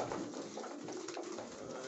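Pigeons coo softly in a wintry pigeon loft, low murmuring calls repeating under a faint background hiss, distant and quiet.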